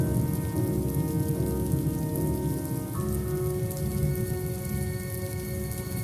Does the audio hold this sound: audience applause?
no